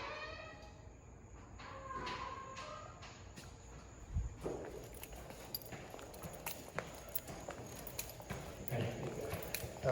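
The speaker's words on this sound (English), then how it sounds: "but some horse and buggies." A horse and buggy passes outside an old mill building converted to condos, with rhythmic hoof clip-clops in the background alongside faint insect chirping and a steady hum.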